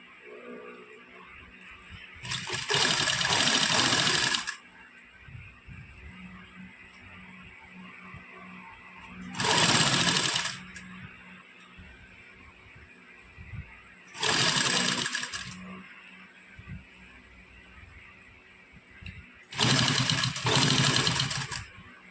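A sewing machine stitches a half collar on a garment neckline in four separate loud whirring runs of a few seconds each, separated by quieter handling pauses.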